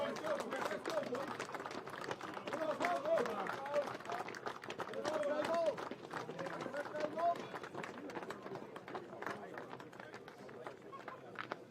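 A lively rugby crowd at an amateur league match as the team comes out: a distant, constant murmur of chatter and noise heard under close commentary.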